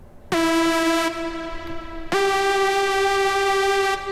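A Hive synth preset plays two sustained, buzzy harmonic notes, the second slightly higher and entering after a brief break, loud and close with no voices.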